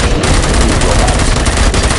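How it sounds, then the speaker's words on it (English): Gunfire in the video game Robocop: Rogue City, a loud, dense burst of rapid shots filling the whole moment, with a voice faintly mixed underneath. "Gunshots?"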